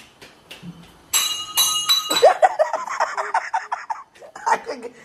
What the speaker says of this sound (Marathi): ग्लास पडला बेटा